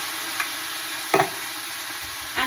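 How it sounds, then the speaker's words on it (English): Canned diced tomatoes going into a pan of toasted spices, heard as a few soft scrapes and a wet clatter over a low, steady sizzle, fairly quiet and with no voices. "I'm going to go ahead and add the rest of this can of diced tomatoes"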